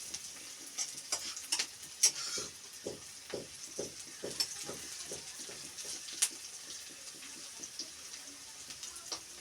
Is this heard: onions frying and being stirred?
yes